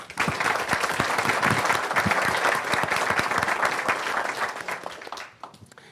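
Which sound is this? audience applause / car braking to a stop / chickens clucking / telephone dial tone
audience applause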